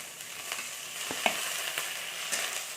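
Onion and thinly cut potato sizzle steadily in a hot pan, a soft crackling hiss with occasional scraping stirs, close by and fairly quiet.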